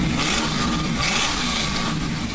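A 1965 supercharged Ford Mustang drives with its engine loud and close, a rough rumbling drone with a couple of swells of revving.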